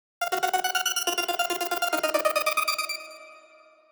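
Synth arpeggio cycles through dark chords in a fast, even pulse of bright notes, loud and close, then the last chord rings out and fades.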